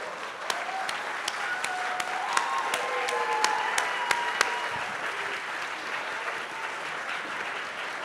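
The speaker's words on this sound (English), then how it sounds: "we'd love to give you a round of applause" An audience at a vernal equinox and full moon ceremony gives a round of applause for artists, steady crowd clapping with sharp individual claps standing out and whistles riding above it.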